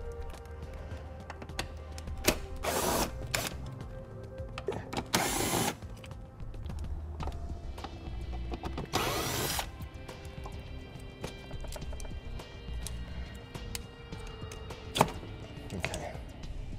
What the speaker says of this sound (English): we'll undo the torque screws that hold it in place